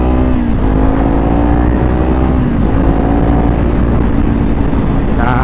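Kawasaki Z400 motorcycle engine with a slipping clutch, revving steadily at close range with a sustained, slightly rising engine drone and no break.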